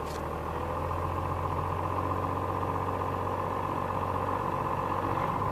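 A truck engine, just fitted with a new transmission, idles steadily in gear with a low constant rumble and hum, fairly faint and even, with no talk.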